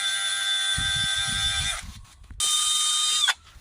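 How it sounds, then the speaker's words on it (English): A drill fitted with a wire brush wheel whines loudly up close in two bursts, cleaning threads around the exhaust gas temperature sensor on a Ford Transit 2.2 RWD MK8, with a short pause between them and faint scratchy chatter under the first. "I've just got a drill here with a little wire brush wheel on the end of it"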